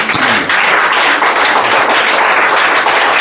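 Students in a Class 12 Hindi classroom clap together, a loud, close, continuous burst of applause that stays steady from start to finish.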